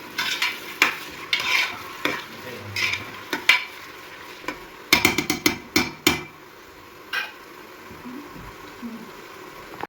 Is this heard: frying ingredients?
yes